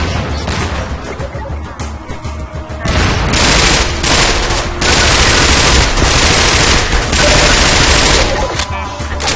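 SMG gunfire from Half-Life 2, long loud bursts of rapid automatic shots that break off briefly and then resume, filling most of the stretch with dense rattling fire.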